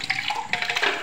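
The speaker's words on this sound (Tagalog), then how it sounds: "Ayan. Lagyan natin ang tubig." Water poured into the reservoir of a portable oral irrigator, a short close splashing trickle with a few bright bursts over about a second, no voices.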